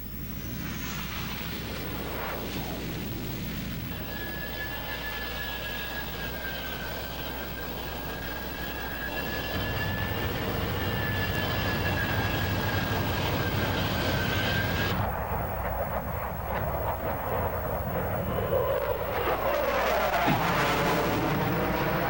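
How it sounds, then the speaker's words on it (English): Jet engines approaching an aircraft carrier, a broad roaring rumble with a thin high whine that holds, then swells louder and rougher as the aircraft closes in, the tone shifting near the end. "All eyes turn skyward at the first sounds of the approaching jet engines."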